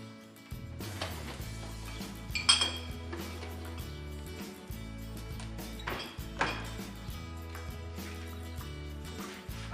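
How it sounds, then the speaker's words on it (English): Glass and dishes clink and knock against each other as a dishwasher is loaded, with scattered sharp chinks over a steady musical bed. "I put the glass in the dishwasher."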